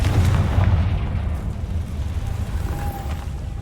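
A Confringo fire spell goes off in Hogwarts Legacy with a heavy, rumbling blast that fills the opening moments and then fades into a lower, steadier roar.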